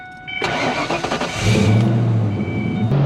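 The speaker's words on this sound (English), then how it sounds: "It sounds like I'm revving the car." A 1992 Ford Mustang GT 5.0 engine turns over and revs up, then holds a steady low drone, loud and close.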